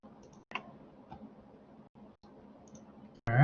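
Computer mouse clicks tick softly and sparsely against a quiet room while drawing in AutoCAD, with a louder burst of noise at the very end.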